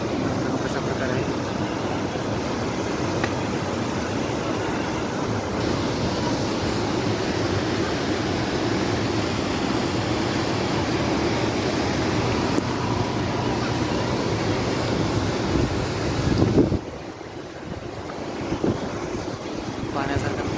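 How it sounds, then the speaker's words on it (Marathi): Canal water released through gates near Nagzari rushes fast in a loud, steady roar, with wind buffeting the microphone before the noise dips sharply near the end. "खूप तेजीने पाणी येत आहे मित्रांनो"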